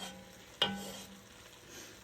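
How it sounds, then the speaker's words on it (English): Beef browning in a soup pot for homemade vegetable beef soup, giving a soft, steady sizzle with one sharp clack of a utensil near the start. "I'm going to let that meat get brown"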